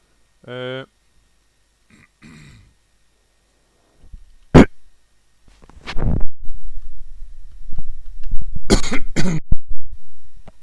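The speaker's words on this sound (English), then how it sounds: "Got this nasty cough" A few sharp, isolated coughs and throat-clearing grunts, close and dry, scattered among quiet stretches and low rumbling movement.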